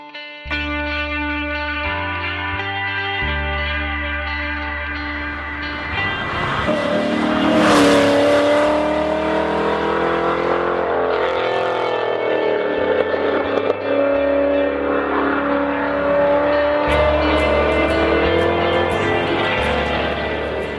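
A big LS V8 car engine revs up and down repeatedly, its pitch climbing and falling, layered over a loud, steady electronic music bed.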